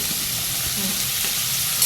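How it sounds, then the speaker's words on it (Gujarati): Cumin seeds and asafoetida fry in hot oil for an okra dish, giving a close, even, continuous sizzle with no voices over it. "જીરું એડ કરી દીધું. હિંગ એડ કરી દીધી."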